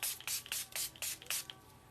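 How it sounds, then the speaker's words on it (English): Spray bottle misting over people, a quick series of about six sharp hissing spritzes in an uneven rhythm, close and crisp against a quiet room. "So I'm gonna spray this over everyone and myself here."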